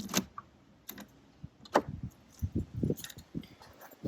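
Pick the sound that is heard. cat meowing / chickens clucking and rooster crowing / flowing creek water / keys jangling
keys jangling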